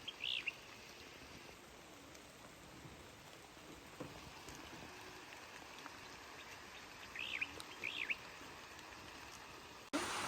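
Steady rainfall patters as a continuous hiss, with occasional faint bird chirps in the background.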